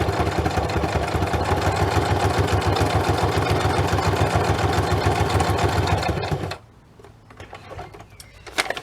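A domestic sewing machine stitches paper signatures into a junk journal, a loud, fast, steady mechanical whirr and clatter for several seconds that then stops, leaving faint handling noises.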